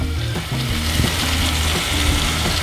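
Chicken pieces sizzle steadily in a pot just after fish sauce is poured in for Filipino tinola, giving a loud, continuous frying crackle and hiss that runs unbroken with no voices.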